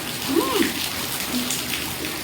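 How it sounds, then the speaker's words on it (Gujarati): Rain has just started falling outside a home, making a soft, steady patter, with a faint voice and light household sounds over it. "અને જો વરસાદ ચાલુ થયો છે"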